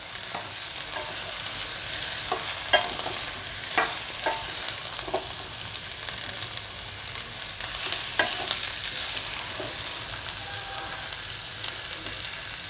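Steady sizzling of sliced ivy gourd frying in a pan, with occasional scrapes and clatters from stirring throughout.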